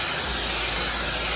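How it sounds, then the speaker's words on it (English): Blue spray paint hissing steadily from a can held 8 to 12 inches from the surface, sprayed in a circle for a beach scene, a continuous close broadband hiss with no talking. "I'm a good 8-12 inches away spraying the blue in a circle"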